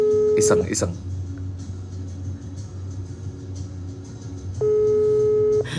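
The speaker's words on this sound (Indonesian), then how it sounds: "Coba gue kalau video call dia nyambung gak ya?" Outgoing video call ringing tone: a short electronic ring burst at the start and another near the end, separated by a low, steady rumble.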